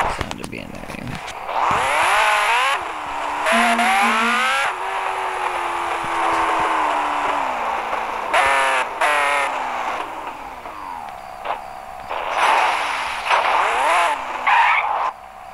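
A car engine in the video game Gangstar Vegas revs and drones loudly, rising and falling in pitch in several sustained bursts with brief pauses between them.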